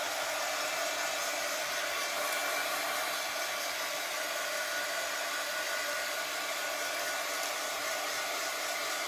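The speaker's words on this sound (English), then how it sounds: "when I put the heat tool too close, that's when it does it" A heat tool blows steadily while drying craft work for a frame project, a constant close, loud rushing hiss with no break and no voices.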